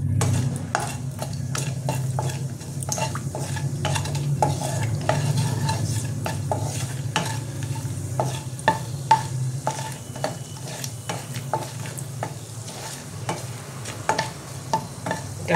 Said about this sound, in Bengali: এবার একটু নেড়ে নেবো এটা।